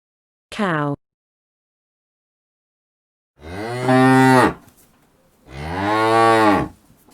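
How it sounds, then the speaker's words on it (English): Cow mooing, heard as three loud, close calls: a short rising bellow first, then two long, drawn-out moos after a pause, with silence between them. "Cow."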